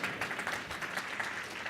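Audience applause at a SharePoint keynote at SPTechCon Austin, a steady wash of clapping from a crowd at moderate level, brief and without speech.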